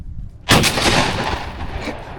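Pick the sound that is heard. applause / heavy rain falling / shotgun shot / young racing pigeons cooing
shotgun shot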